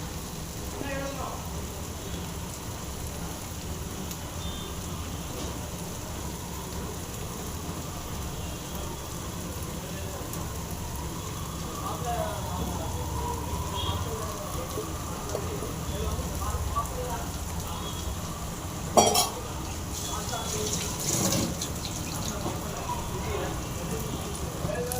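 Eight beaten eggs poured into a hot pan for a Manila tamarind and chili egg dish, giving a steady, moderate crackling sizzle that runs throughout, with people talking over it.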